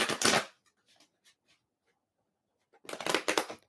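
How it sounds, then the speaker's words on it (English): Tarot cards are shuffled in two quick riffling bursts separated by a short quiet pause, close and crisp. "I'm just shuffling"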